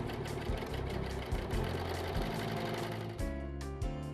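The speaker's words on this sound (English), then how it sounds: "Set your machine up for a balanced 4-thread stitch and soft gather the other edge" Brother 1034D serger sewing a balanced 4-thread stitch and gathering a fabric strip edge, a rapid mechanical whirring hum with a fast rhythmic clatter, close and steady, slowing briefly near the end.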